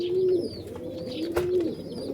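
Kalsara and kaldum pigeons coo in low, steady repeated notes, with faint chirps and calls from other birds in the background.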